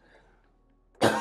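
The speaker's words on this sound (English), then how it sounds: "That cough, really annoying." A single sharp cough bursts out loudly at the end after near silence.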